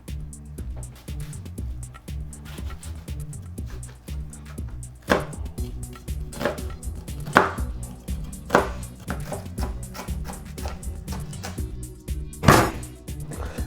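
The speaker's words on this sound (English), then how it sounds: "Now we're going to finally chop the garlic." Knife chopping garlic on a cutting board while making vegan katsu-style tofu, heard as a handful of separate sharp chops with irregular gaps, clearest toward the end, over a steady bed of background music.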